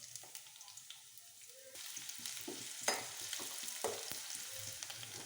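Garlic and onion with mustard seeds and cumin frying in a pan, a quiet sizzle that grows fuller partway through, with occasional spoon scrapes and small pops, close with no talk.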